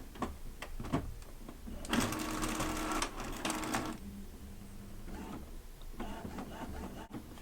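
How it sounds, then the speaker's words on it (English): An Epson printer runs a 5 by 7 color photo print, giving a steady mechanical whir with brief clicks and louder bursts of feed-and-print movement, close and alone. "now my printer is going to start printing"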